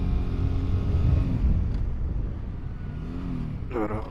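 A BSA Gold Star 650 motorcycle engine runs with a low rumble while a gear is shifted, the revs dipping and then climbing again near the end, close and fairly loud.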